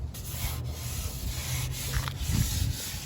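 Scuffing and sanding on the header panel of a 1986 car: a close, steady abrasive rubbing with a few rhythmic strokes, heard alone.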